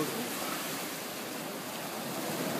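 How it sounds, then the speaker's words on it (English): Ocean waves at Laguna Beach, a continuous broad wash of surf with some wind, steady and moderately loud throughout with no voices. "Observe the ocean."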